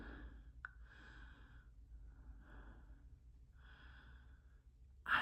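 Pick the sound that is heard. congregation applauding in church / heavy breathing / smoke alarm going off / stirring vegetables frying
heavy breathing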